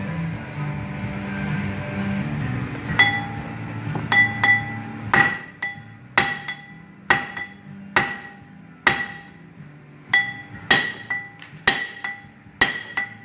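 Hammer blows ring out against a stuck front brake rotor on a 2010 Mercedes CL600 V12, about a dozen sharp metallic clanks at a steady working rhythm after a quieter start.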